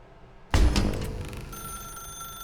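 A telephone rings in The Stanley Parable, a sudden loud onset of bright bell-like tones that rise into a steady ring with sustained high overtones, alone and without speech.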